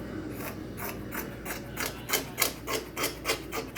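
Scissors cut fabric along a drawn line for a tote bag, producing a close series of crisp, rhythmic snipping crunches that grow slightly louder toward the end.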